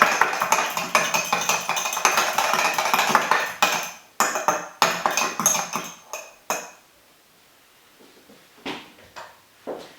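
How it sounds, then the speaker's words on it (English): A fork whisks an egg for egg wash in a bowl while mince pies are made, giving a fast run of bright clinking taps that stops, followed by a few scattered knocks of kitchenware. "We'll just whisk up the egg."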